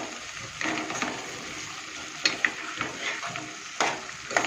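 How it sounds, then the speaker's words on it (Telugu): Okra pieces for a lady's finger curry sizzle in hot oil in a pan while being stirred, with a steady close frying hiss broken by several sharp scraping and clinking stirs, and no voices. "కట్ చేసి పెట్టుకుని బెండకాయ ముక్కలు వేస్తున్నాను. బాగా కలపాలండి."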